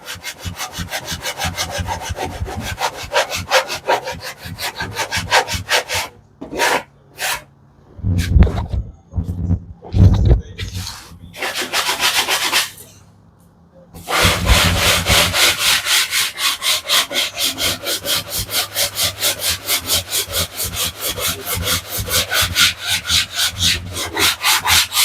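A router table cuts wood for a truck console with a loud, steady rasping drone. It breaks into short bursts and gaps midway, then resumes as a continuous run.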